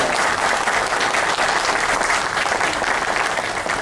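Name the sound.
audience applause for Valmir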